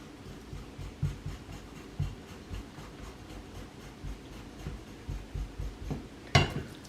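A knife cuts squid for salt and pepper calamari on a board, a series of soft, repeated thuds and scrapes close-up, ending with a sharper knock.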